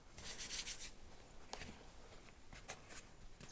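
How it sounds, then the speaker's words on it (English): Bare hands scrape sticky cinnamon-roll dough off the sides of a mixing bowl, making faint, soft rubbing and scuffing sounds in short bursts, close by. "as I scrape this dough out of the bowl"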